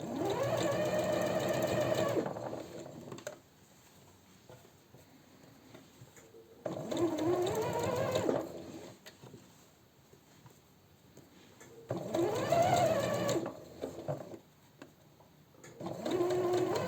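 A domestic sewing machine topstitching a seam on a silk blouse runs in three bursts of rapid, even stitching of about two seconds each, separated by quiet pauses, close and clear.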